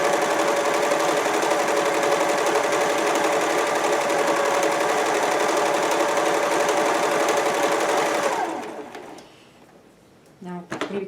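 An Elna 945 cover stitch machine runs steadily through fabric with a loud, even mechanical whir for several seconds, then stops, followed by a few soft handling clicks.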